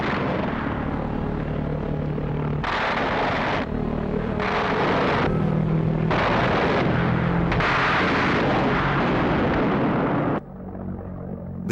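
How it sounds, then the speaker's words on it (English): Fighter aircraft guns firing at a V1 flying bomb: loud, rough bursts of gunfire pulsing on and off over a continuous engine roar, ending with the roar thinning out. "Closing with their fast-moving quarry, they opened fire at minimum range"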